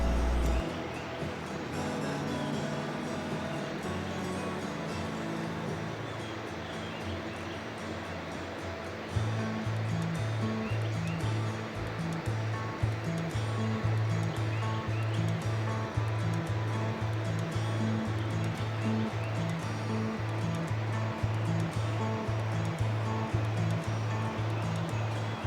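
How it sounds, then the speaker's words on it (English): Waterfalls rush steadily in a canyon far below the west rim at Cloudland Canyon State Park, a soft, continuous distant roar with faint wind around it. "you can hear the waterfalls in the canyon below"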